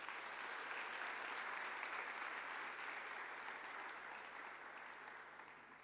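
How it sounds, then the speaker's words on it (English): Sustained audience applause at a youth forum opening ceremony, a dense, steady wash of clapping filling the room that fades gently toward the end, with no speech over it. "So a big round of applause"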